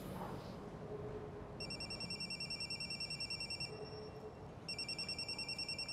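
A telephone rings in two separate bursts of rapid electronic trilling. The ringing sits over a steady, low rumbling background with no talk.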